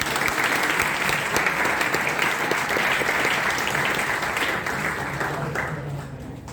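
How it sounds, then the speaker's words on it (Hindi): Sustained applause from an audience at a medical college Teacher's Day celebration, dense and steady clapping throughout, fading slightly toward the end. "एक बार जोरदार तालियों के साथ"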